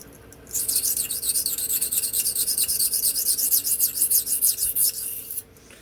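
A Remington Barlow knife edge is drawn repeatedly across a sharpening stone, a close, continuous rhythmic rasping with quick strokes that starts abruptly, runs about five seconds and stops.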